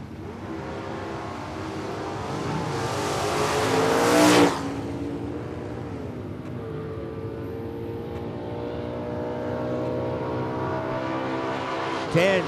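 A 1968 Plymouth Roadrunner with a 500-cubic-inch engine and another drag racing car roar past, the sound swelling to a loud peak and then sweeping away, followed by a steady engine drone and a brief surge at the end.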